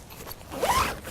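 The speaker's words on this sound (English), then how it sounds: "then just zips up from either side" A zip is drawn shut on the mesh panel of an Abode Continental 2/3 man pram-hood bivvy, one quick close rasping pull.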